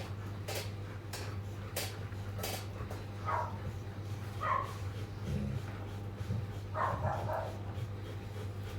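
Several dogs bark in short, sharp bursts at a shelter that houses hundreds of them. A few yips come through early, then louder barks sound at mid distance over a steady low hum.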